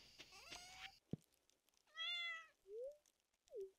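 Raja, a pet cat in the video game Stardew Valley, meows several times in a row: a longer drawn-out call followed by two shorter rising meows, clear and close with no talking.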